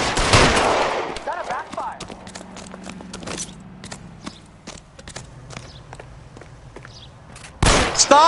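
Rapid bursts of gunfire in L.A. Noire, sharp cracks opening and closing with scattered single shots between, alongside footsteps and clip-clopping hooves, with voices briefly talking.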